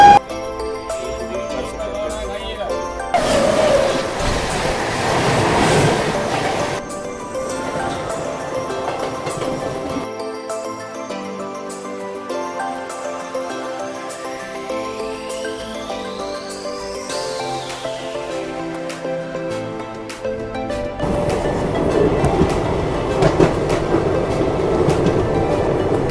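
Long-distance Indian railway train rolling along, a steady rumble and clickety-clack of wagons on track with a rising then falling tone near the middle, moderately loud, with no talk.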